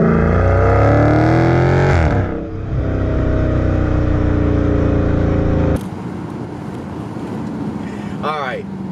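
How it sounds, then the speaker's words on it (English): A 2020 Dodge Challenger 392 Scatpack T/A V8 roars loud and close as it accelerates hard after a downshift, engine pitch climbing steadily, then the note drops to a lower, steadier drone with a brief tire squeal near the end. "About downshift again, and give her the beans."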